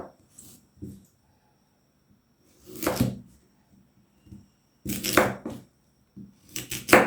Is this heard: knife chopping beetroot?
yes